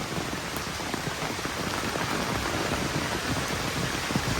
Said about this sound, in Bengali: মোটামুটি দু তিন দিন ধরে এরকম বৃষ্টি হচ্ছে